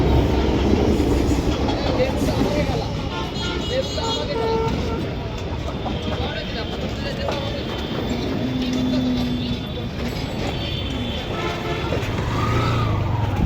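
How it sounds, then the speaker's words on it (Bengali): A small train rumbles and clatters along nearby at a market in Daulatpur, Khulna, in a steady rolling drone, with people talking over it. "ছোট্ট একটা ট্রেন।"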